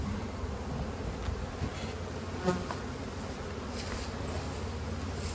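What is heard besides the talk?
honey bees buzzing in a hive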